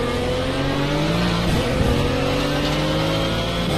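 A Pagani Zonda race car's engine roars in a racing video game, a loud, steady, high-revving drone with rising and falling pitch as it accelerates, continuous and unbroken throughout.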